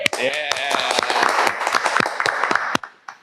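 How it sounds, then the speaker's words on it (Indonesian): An audience on a talk show claps to welcome a guest anesthesiologist doctor, with sharp, scattered claps and whoops over overlapping voices and a cheer, then a sudden cut to near silence. "Tepuk tangan untuk Dokter Ode"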